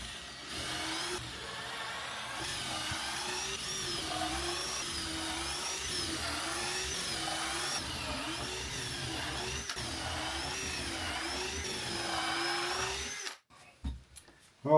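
A power drill bores pilot holes for screws in timber during insulation work on a vaulted farmhouse ceiling, a sustained whining motor with wavering pitch for about thirteen seconds, close and steady, then stopping abruptly.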